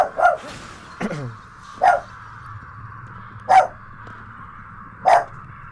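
Dog barking indoors in a room, four sharp, loud barks spaced about every one and a half seconds, with a short whimpering yelp early on, over a low steady background hum.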